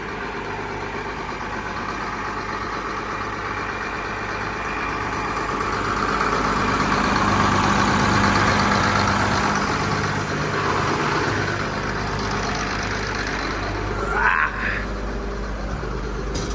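An engine idles steadily and close by in a vehicle bought at Polk Auction Company. The low, continuous rumble swells slightly and then settles, with no talking over it.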